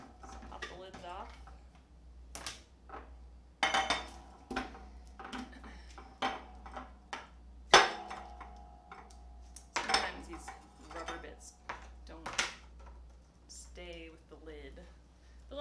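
Plastic meal prep containers and lids are handled in a kitchen, with irregular clicks, pops and clattering knocks scattered throughout, close and fairly crisp, while a person talks intermittently.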